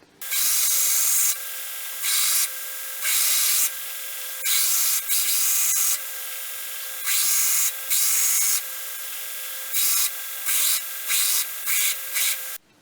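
Scribing angle lines onto a knife guard in a workshop, heard as repeated dry scratching strokes in bursts of roughly half a second to a second, close and fairly loud, with short pauses between passes and no talking.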